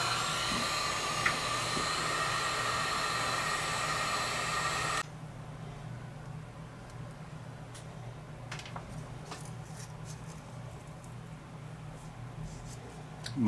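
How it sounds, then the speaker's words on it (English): A heat gun runs with a steady, loud whooshing blow while it warms tubes of epoxy, then cuts off abruptly, leaving faint handling noises and small clicks. "I'm just going to get my heat gun out and heat up the tubes a bit"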